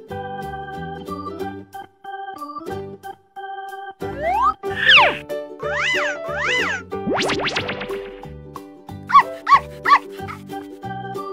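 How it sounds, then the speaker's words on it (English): A cartoon dog in a children's animal cartoon gives a quick run of three short, yelping barks near the end, after light music and bouncy springy sound effects. "Dog."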